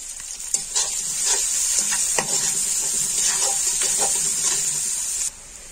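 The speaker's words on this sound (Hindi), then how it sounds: "ये बस थोड़ा सा प्याजों को फ्राई कर लेंगे" Onions sizzling steadily in hot oil, close up, with occasional scraping stirs and no talking.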